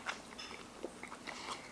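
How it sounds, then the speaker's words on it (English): Chewing corn from a KFC bowl, close and quiet, with soft irregular crunches and bites spread across a short moment. "like you hear that little gentle crunch from the corn"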